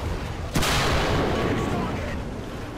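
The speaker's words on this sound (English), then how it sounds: "So I got a real good shot into him and then gave him a couple of follow-ups" Tank cannon fire from a Ho-Ri tank destroyer in War Thunder, one sharp loud blast followed by a long rumbling decay over steady battle noise.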